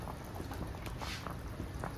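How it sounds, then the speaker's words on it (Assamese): A tomato mixture for a fish dish bubbles in a pot, a soft steady simmer of small popping bursts at close range, with no voices over it. "এতিয়া এইখিনি ধুনীয়াকৈ উতলি আছে দেখিছেনে পুৰা একদম মজাকৈ উতলি আছে"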